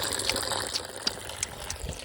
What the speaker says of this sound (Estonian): Aga kuidas vesi tuleb? Puu seest.